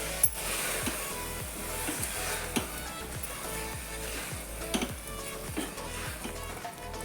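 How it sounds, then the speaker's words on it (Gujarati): A spoon stirring wheat, dal and rice into masala in a pressure cooker, making a steady rhythm of soft scrapes and clinks over a faint sizzle. "ધોઈને રાખ્યું હતું તે ઘઉંના ફાડા અને દાળ ને ચોખા એ બધું મિક્સ કરી દઈશું અંદર."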